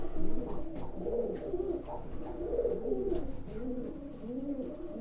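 Pigeons wintering in a loft coo in repeated soft, throaty rolling phrases, several birds close by overlapping in a continuous low murmur.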